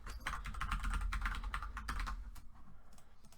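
A password is tapped out on a computer keyboard in a quick run of close, crisp keystrokes that slows and thins out toward the end.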